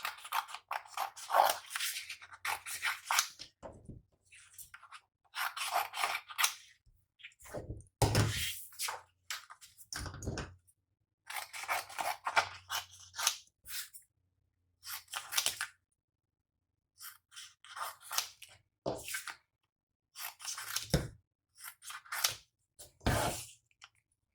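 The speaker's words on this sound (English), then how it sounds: "You can use your scissors to cut these out using the purple as a guide." Scissors snipping through stiff cardstock in bursts of crisp cuts, with pauses between, close and fairly quiet, no talking.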